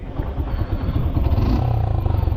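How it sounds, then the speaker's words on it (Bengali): A modified Suzuki Gixxer 155 motorcycle with a shaved-down exhaust pipe rumbles steadily and close by, a deep, throbbing engine note that grows slightly louder and more pulsing toward the end. "আপনারা বুঝতেই পারছেন যে জিক্সারের সাউন্ড কেমন আর আমার বাইকের সাউন্ডটা কেমন"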